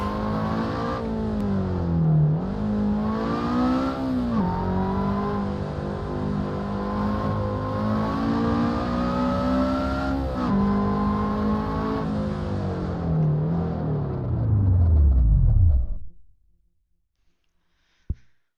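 A car engine in the racing game Assetto Corsa drones steadily through a point-to-point run, its pitch rising and dipping with gear changes, then dying away into near silence at the end.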